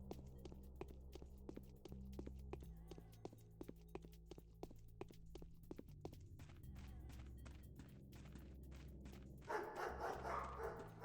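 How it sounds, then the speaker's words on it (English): A dog in Pathologic barks in a rapid string of sharp, fairly faint yips over a droning musical bed, followed by a brief louder burst of noise near the end. "God, dog surprised me there."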